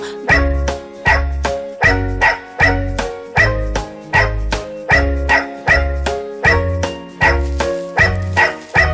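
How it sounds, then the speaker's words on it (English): A dog barks in a regular, evenly spaced beat through a children's nursery song, loud and close, about a dozen barks set against the bright music with a light jingle. "There was a farmer who had a dog, and Bingo was his name."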